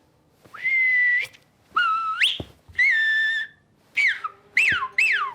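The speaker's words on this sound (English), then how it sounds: "I do know how to whistle. Listen." A person whistles a short tune in several clear phrases with rising and falling slides, separated by brief pauses.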